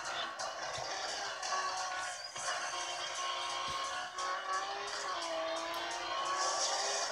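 Race cars in a racing game on a Vernee M5 phone roar steadily, with engine tones rising and shifting as one car overtakes, loud and continuous.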